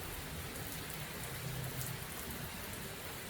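Steady rain falls outside a garage, a continuous even hiss of drops with no voices over it.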